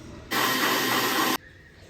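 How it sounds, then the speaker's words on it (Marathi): A mixer grinder runs in one short burst of about a second, a loud steady whirring roar that starts and stops abruptly while grinding soaked rice, lentils and poha. No voices. "आणि आता हे मिक्सरमधून फिरून घेते मी."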